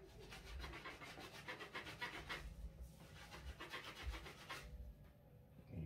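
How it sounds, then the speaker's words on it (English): Soft bristle brush scrubbing the inner liner of a Yeezy 350 Zebra sneaker during deep cleaning, a steady rapid rhythmic rubbing and scratching that runs continuously at close range, briefly easing near the end. "And you do that with your soft bristle brush, get it all in there."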